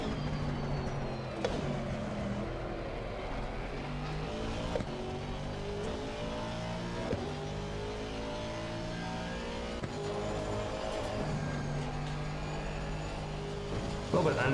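Race car engine from the Assetto Corsa Competizione sim racing game at Donington Park, droning steadily with shifting harmonic engine tones throughout, with some speech-like content mixed in.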